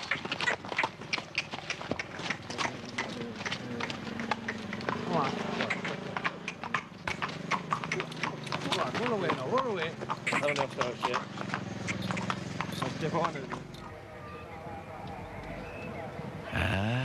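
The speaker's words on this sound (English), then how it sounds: "The pony walk down the road there now." A pony's hooves clip-clop steadily along a road in North Kerry, a brisk rhythmic clatter of hoof strikes at close range that fades slightly near the end.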